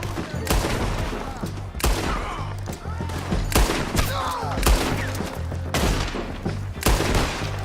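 Gunfire from the western game Red Dead Redemption 2: repeated loud gunshots in an uneven run of separate cracks and booms roughly every second, over a low rumbling music bed, with some brief voices.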